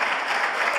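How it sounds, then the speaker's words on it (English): Audience at a golf foundation anniversary celebration clapping, a brief continuous burst of applause at moderate level. "just clap for that."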